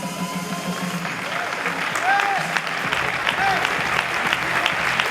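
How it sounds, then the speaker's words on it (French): Audience applause for a Kali Escrima martial arts demonstration by a teenage performer at a martial arts festival, steady dense clapping with crowd noise throughout, a few faint voices and whistles mixed in. "Il est bien applaudi."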